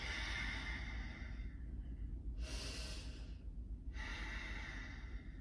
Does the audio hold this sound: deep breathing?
yes